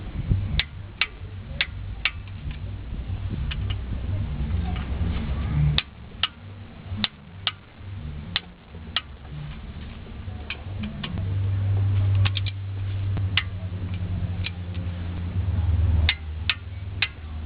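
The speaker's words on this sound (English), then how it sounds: "you must stop when the torque wrench clicks" Torque wrench on a Nissan Navara Frontier D22 front wheel, tightening Allen bolts set to 20 foot-pounds in a crisscross pattern; sharp, isolated clicks and ticks come at irregular intervals over a low background hum, with no talking.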